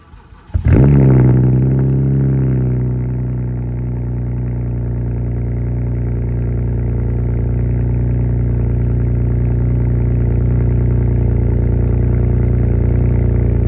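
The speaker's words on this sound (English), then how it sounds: "Guys, as you can see, just cold started the car." A BMW 335i with a burble tune cold starts, cranking and roaring to life with a loud burst, then settling into a steady, rumbling high idle that holds close and constant.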